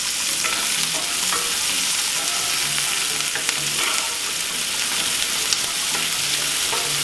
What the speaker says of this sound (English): So we're gonna start off with adding the onions